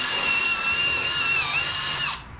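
A power drill bores a hole for a rubber clamp during brake and fuel line work on a 1961 Parkwood wagon, whining loudly and steadily with a slight pitch dip before spinning down at the end, alone.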